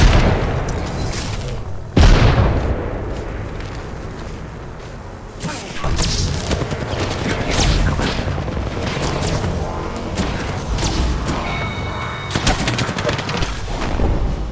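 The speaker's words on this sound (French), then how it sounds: "Grenade frag lancée." A frag grenade blast and heavy automatic gunfire in Apex Legends, a deep boom followed by sustained rapid shots and further bursts, loud and close.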